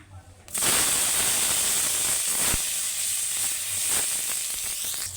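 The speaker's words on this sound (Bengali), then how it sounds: "এবার ওই তেলেতেই আমি বেগুনটা ভেজে নেবো" A loud, steady sizzle of eggplant frying in hot oil already used for fish starts abruptly and continues without a break, with a few faint clinks.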